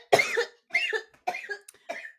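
Four harsh coughs in quick succession, close and fairly loud, each a short burst with brief gaps between.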